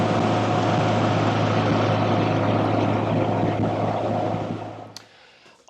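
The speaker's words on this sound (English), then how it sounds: "that is a little taste of what it's like driving a real turbocharged Mini" A real turbocharged Mini car engine drones steadily while driving, a loud constant hum that cuts off abruptly near the end, leaving brief quiet.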